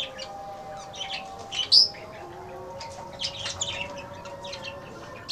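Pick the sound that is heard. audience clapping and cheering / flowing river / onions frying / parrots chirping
parrots chirping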